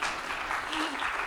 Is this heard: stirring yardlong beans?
no